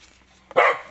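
A single short dog bark rings out close and loud, set off indoors as a household dog reacts to someone leaving, brief and sharp against a quiet room.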